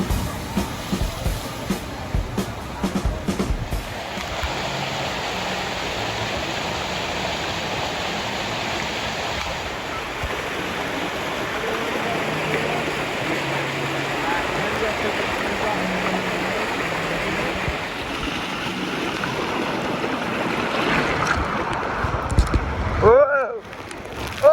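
Rushing water roars steadily along a fast multiple-drop water park slide, a continuous close wash of spray and splashing that swells toward the end, with no voices heard.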